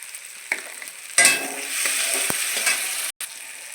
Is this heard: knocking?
no